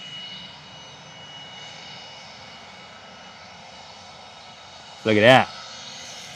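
A Bombardier Global 7500 business jet passes at London Stansted, heard as a steady, moderate engine whine and hum. A brief loud interjection from a nearby voice cuts in near the end.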